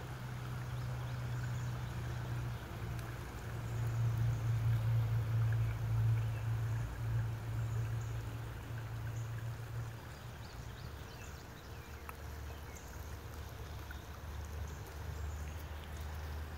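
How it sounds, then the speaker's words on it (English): Creek water flowing steadily along a nature walk, a soft continuous wash with a low hum underneath, moderately faint and unchanging throughout, with no voices. "Here's the creek again."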